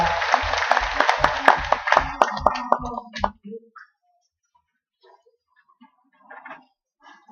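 Applause from an audience after a talk, a short burst of rhythmic clapping that stops abruptly, followed by near silence with faint shuffling.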